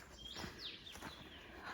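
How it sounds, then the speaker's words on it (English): Several birds chirp and sing at Amherst Point Bird Sanctuary in Nova Scotia, short high calls scattered over a faint outdoor background, some close and some farther off, with no talk. "A lot of birds singing in here."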